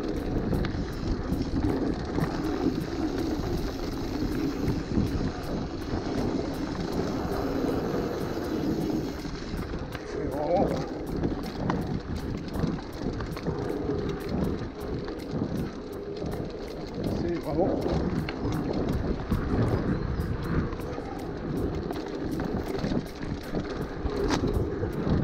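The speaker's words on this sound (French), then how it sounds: "Le vent est vraiment glaçant." Cold wind blowing across a microphone outdoors in freezing weather, a continuous rumbling buffet with gusty surges across the whole stretch, loud and close.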